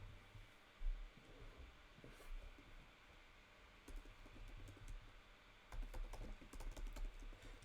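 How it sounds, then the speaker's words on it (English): Typing on a computer keyboard during a coding session, quiet and fairly close, with scattered keystrokes early and then quicker bursts of clicking toward the end, with no talking. "So if I just type in something"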